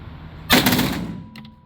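A live-fire gun at a Marmaris shooting range cracks once, loud and close, a single sharp report ringing out with a short decaying tail and a faint click afterward.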